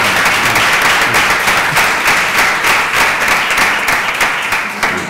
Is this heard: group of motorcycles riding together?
no